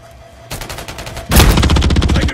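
Automatic gunfire in the video game Modern Warfare 3, played on the Estate map in Hardpoint mode: a rapid burst starts, then a louder, closer stream of fast repeated shots takes over; no talking.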